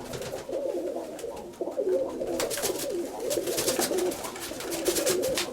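Pigeons coo continuously at close range in a steady, overlapping murmur, with louder rustling and flapping-like bursts mixed in throughout.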